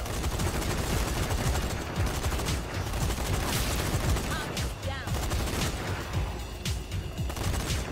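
Heavy automatic gunfire from a big gun in the zombie shooter Zombie Army 4: Dead War, a dense, continuous barrage of loud shots and booms with occasional faint voices beneath.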